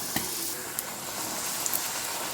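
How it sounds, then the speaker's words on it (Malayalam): Poori frying in sunflower oil in a pan on the stove, giving a steady, close sizzle and hiss with a few small pops and crackles, no voices. "ഞാനൊരു പാൻ അടുപ്പി വെച്ച് അതിനകത്ത് സൺഫ്ലവർ ഓയിൽ ഒഴിച്ചിട്ടുണ്ട്. ഇനി നമുക്ക് ഓരോന്നായിട്ട് പൊരിച്ചെടുക്കാം."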